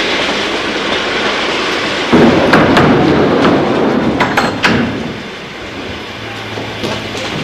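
Passenger train with through coaches from Genoa rolling into a station platform, steady rumbling and clickety-clack of wheels with sharp metallic clanks and a faint squeal, loud and close, easing off toward the end.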